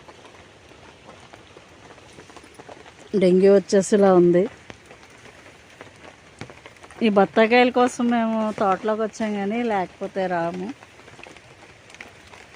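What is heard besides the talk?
rain falling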